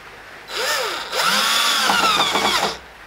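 A cordless power screwdriver drives screws into wood while a potting table is built. Two whirring bursts come up close and loud, the second longer and ending in ratcheting clicks, with no talk over them.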